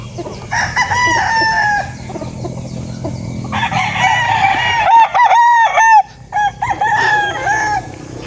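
Chickens cluck steadily, and loud crowing from a rooster rises near the middle and end, close and prominent with no talk.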